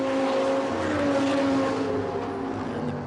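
GT3 race cars, including a Pro Speed Porsche, roar past at Zandvoort in the 2011 FIA GT3 race, a loud sustained engine wail with shifting pitch that sweeps by and slowly fades, with no talking.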